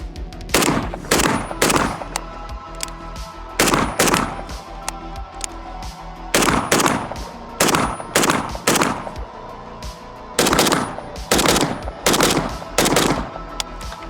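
Bursts of automatic fire from an AK-74 rifle shooting Tula 5.45 ammunition, loud and close, in four quick strings of several rapid shots each separated by short pauses.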